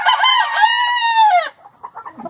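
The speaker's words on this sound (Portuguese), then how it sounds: "ele vai ser o galo com o maior número de galinhas daqui" A rooster in a Brazilian backyard henhouse lets out one loud, close crow that trails off, followed by a few soft, quick clucks.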